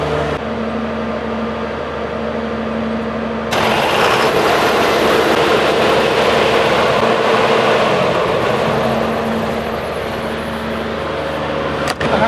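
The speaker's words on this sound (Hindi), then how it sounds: "जनरेटर हमारा स्टार्ट हो चुका है" A diesel generator's engine cranks over on a freshly replaced starter motor, then catches and runs with a loud, steady mechanical roar that holds without any talking.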